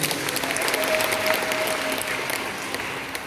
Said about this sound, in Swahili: Pigie Yesu makofi